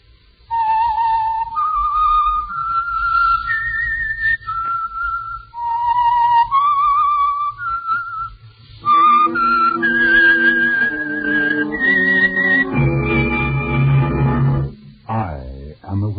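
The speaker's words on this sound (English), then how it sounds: "the signal to listen for is this whistle that identifies the Signal Oil program" A melodic whistled signal tune for The Whistler, the Signal Oil radio program, plays as clear repeated rising and falling phrases, then a fuller orchestral passage swells in under it on an old broadcast recording.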